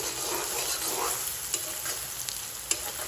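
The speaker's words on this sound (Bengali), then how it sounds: "এখন একটু ভালো করে নেড়ে চেড়ে লাল করে ভেজে নেব।" Chopped onions and green chilies sizzle steadily in hot oil while being stirred, a close continuous frying hiss broken by a few sharp spatula clicks against the pan.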